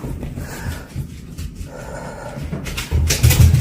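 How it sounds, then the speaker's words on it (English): Frightened dogs whimpering and whining nearby indoors, with snorts and panting and a louder burst of agitated noise near the end, in the Appalachian Mountains. "My dogs are freaked out."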